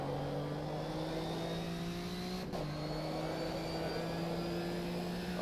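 A Nissan 370Z engine on a racetrack in the sim racing game rFactor 2 at NOLA, a loud steady tone that rises smoothly under throttle, then drops abruptly at a gear shift and keeps climbing again.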